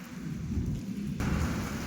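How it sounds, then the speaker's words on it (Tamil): Heavy summer rain pours steadily with deep rolling thunder rumbling underneath, loud and close, with a sudden brighter surge of downpour midway. "பயங்கரமாக மழை பெய்யுது"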